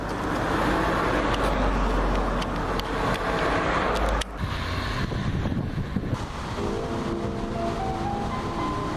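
A Renault 21 TXE Break estate car drives along, its broad engine and road roar loud and steady, with wind buffeting; midway the tone drops into a quieter, smoother cruise.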